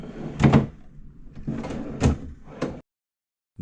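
Cabin drawers beside the minibar on a cruise ship open and shut in several close, solid thumps and slides, spaced over a few seconds and heard alone before a brief silence.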